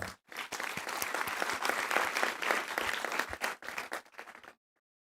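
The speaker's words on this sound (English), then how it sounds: "let's honor this milestone and all who helped us reach it with a heartfelt round of applause" A graduation ceremony audience at Asia Pacific University breaks into sustained applause, dense steady clapping from a large crowd that swells and then cuts off abruptly near the end.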